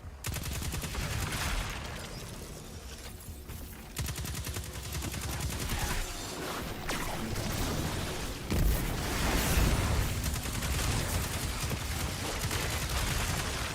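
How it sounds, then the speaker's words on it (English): A dense cluster of explosions and gunfire fills a Destiny 2 Mythic Challenge fight, with loud, continuous booms and crackling bursts layered over game noise for about fourteen seconds, and no voices. "That was just a cluster of explosions"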